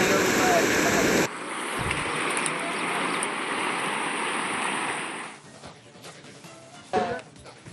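Floodwater rushing over a road in Bidar, Karnataka, after heavy rain, a loud steady roar that drops to a quieter wash midway, with faint voices and bumps toward the end.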